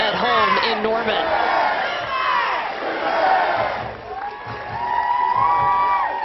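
A home crowd at an Oklahoma college softball game in Norman roars and whoops in a loud, sustained wave of cheering that dips briefly and then surges again.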